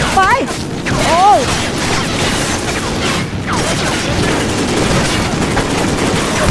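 Gunfire in the video game Call of Duty Ghosts crackles in loud, rapid bursts and booms while a player talks excitedly over the shooting and in-game voices call out.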